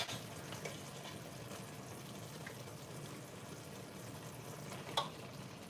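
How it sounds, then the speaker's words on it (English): Plantain water poured into a pot of plantain porridge simmering on a stovetop: a steady wet hiss and bubbling with a brief splash near the end, close and moderately loud. "Some of that plantain water can go in as well."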